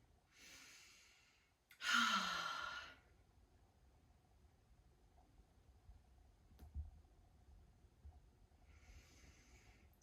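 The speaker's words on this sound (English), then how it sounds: "So just taking some nice deep breaths." Slow deep breaths during a daily splits stretching practice: a soft inhale, then a louder, longer sighing exhale, and another quiet breath near the end, close and alone with no talk.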